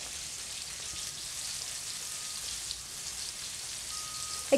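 Potol (pointed gourd) frying in mustard oil in a wok, a steady soft sizzle with fine crackle continuing evenly throughout, no voices over it.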